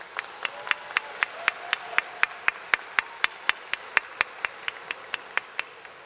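Evenly spaced applause claps ring out one after another at a university commencement ceremony in a steady rhythm, crisp and close, swelling slightly then fading a little.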